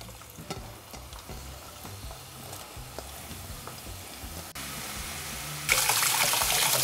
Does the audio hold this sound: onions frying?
yes